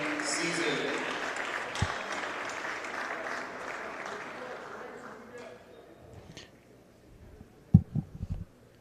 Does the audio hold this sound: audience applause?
yes